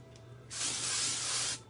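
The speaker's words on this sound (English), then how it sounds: "This is the Orbi texturizing spray." A single sustained burst of Orbi texturizing spray onto hair, a close, bright aerosol hiss lasting about a second, with a brief faint puff just before it.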